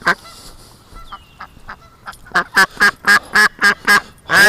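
A duck gives a run of loud, harsh honking quacks, starting as scattered calls and building into a fast, evenly spaced series close by, with no talking.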